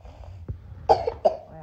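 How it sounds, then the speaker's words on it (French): A young child coughs a few times, two sharp coughs standing out near the end, faint and close with quiet room noise between them. "elle tousse un peu encore et tout"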